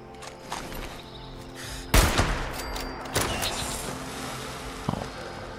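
A gun fires in Fallout 76 with a couple of sharp shots standing out over a busy game soundscape, the loudest blast near the middle and smaller pops later.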